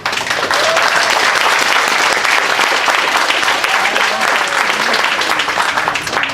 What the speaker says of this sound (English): Please give Paul and the family a round of applause